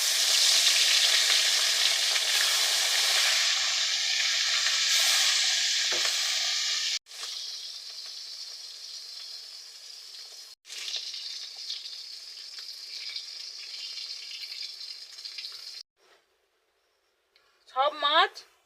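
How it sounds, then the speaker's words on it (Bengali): Fish frying in hot oil for a potato-and-rohu curry, a loud steady sizzle that drops in level and continues in bursts, cut by brief gaps, with a short spoken phrase at the end. "এবার আমি তুলে নেব আর বাকি মাছগুলো আমি ভেজে নেব।"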